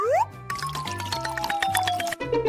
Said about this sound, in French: Alors, je vais ajouter de l'eau.